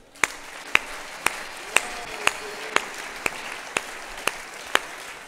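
A church congregation claps in a steady unison rhythm, about two sharp claps per second, over a low room hum, with no voices.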